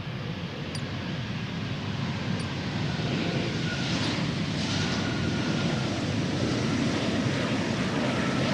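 A steady roar of an Embraer 190 jet engine arriving to land at Schiphol's Polderbaan fills the air, broad and sustained, growing slightly louder as it approaches, with no voices.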